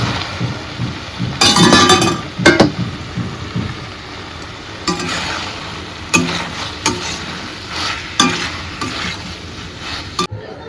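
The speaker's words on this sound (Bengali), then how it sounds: "মশলাটা এখানে কষিয়ে নিয়ে পরে ব্যাস ভাজা পটল আর সয়াবিনটা দিয়ে দেবো" Ginger spice paste is stir-fried in oil in a pan, with a dense sizzle under a few loud scraping and clinking strokes of a spoon against the metal, close by.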